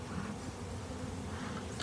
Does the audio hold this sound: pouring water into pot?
no